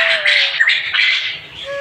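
Quail on an egg farm give loud, close squawking calls that come in quick, overlapping bursts throughout.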